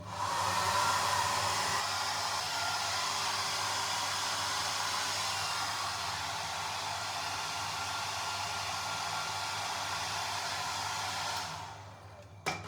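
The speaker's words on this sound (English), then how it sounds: "I'm not going to like fully dry it because it's not good for the hair" A hair dryer blowing on someone's hair in a hotel room, a loud steady rushing whoosh that runs without a break for about eleven seconds, then cuts off near the end.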